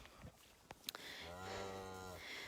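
Cows low in an open pasture, with a single drawn-out moo swelling and fading, faint and fairly distant, after a few scattered soft knocks.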